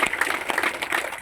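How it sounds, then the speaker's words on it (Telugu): An audience claps loudly in unison, a dense, steady patter of many hands close by that runs without a break and with no voices over it. "ఒకసారి గట్టిగా చప్పట్లు కొడతాం."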